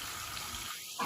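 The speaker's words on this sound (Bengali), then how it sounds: "তো এদিকে আলুটা ধুয়ে নেবো এবার" Potatoes get washed under a running kitchen tap, a soft, steady hiss of flowing water that briefly shifts in tone near the end.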